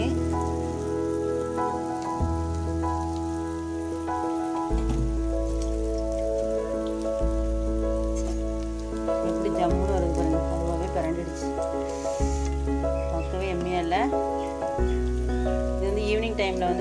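Wheat appam batter made with sour idli batter frying in very hot oil, giving a steady rain-like sizzle that runs throughout beneath loud background music with shifting tones.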